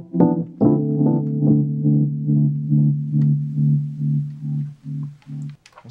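Rhodes electric piano from a Lounge Lizard plugin plays a short run of mellow keyed notes, starting with a few struck chords then a steady pulsing pattern, close and clean with no voices.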